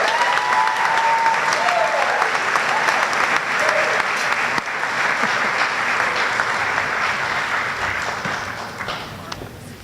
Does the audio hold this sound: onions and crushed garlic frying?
no